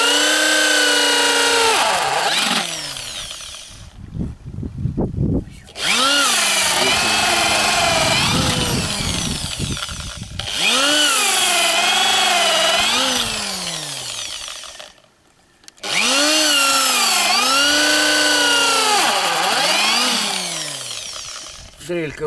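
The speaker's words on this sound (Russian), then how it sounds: "Дрелька уже старенькая, подбивает, конечно." An old electric drill whines loudly in long bursts, its pitch rising and dipping as it bores holes in wood for window trim, with short pauses between holes.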